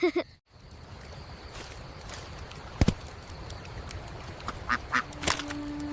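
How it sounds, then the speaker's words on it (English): A duck quacks at a campsite by a river, several short sharp quacks in quick bursts near the end, fairly close, against quiet outdoor background. "The duck stole your dinner!"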